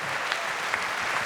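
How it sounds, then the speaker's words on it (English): Squash crowd roaring and applauding after a long rally between Willstrop and Farag at the World Series Finals, a dense, steady wash of clapping and cheering that fills the short moment without a break. "It's got to be a roar from the crowd after this rally."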